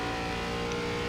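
A race car in iRacing's ARCA Menards Series at Richmond roars past as a steady, loud engine drone, briefly up close.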